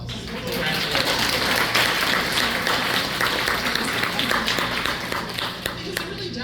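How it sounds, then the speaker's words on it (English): Steady applause fills a luncheon room, honoring long years of service, with clapping and scattered taps sustained throughout under a busy crowd murmur and occasional voices. "But everyone deserves a round of applause."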